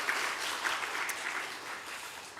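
A church congregation at a Sunday service gives a short round of steady, moderately distant applause with no speech over it.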